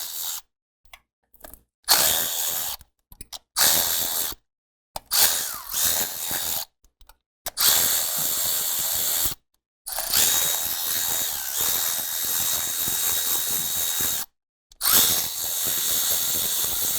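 A ratchet wrench loosens the bolts on a high pressure fuel pump of a Chevy truck with a 5.3L engine, giving loud, close, rapid clicking runs broken by short pauses as the tool is reset.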